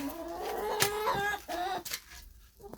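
A rooster crows and clucks close by among hens, a few harsh rising calls in quick succession, then quiet.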